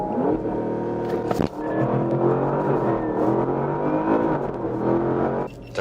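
A Porsche Panamera Turbo S E-Hybrid accelerates hard from a launch-control start, engine and electric motor pulling together, with a loud rising engine note, a brief gear-shift break, and a continued climb.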